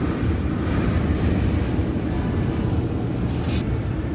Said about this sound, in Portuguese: E tá ventando bem.